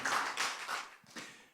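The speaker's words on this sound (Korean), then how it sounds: "우리 하나님께 영광의 박수 올리겠습니다" Church congregation clapping during a Sunday morning worship service, a dense burst of many hands that swells, dips briefly, then picks up again, close and full with no voices over it.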